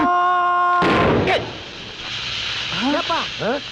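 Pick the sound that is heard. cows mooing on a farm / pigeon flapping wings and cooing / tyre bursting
tyre bursting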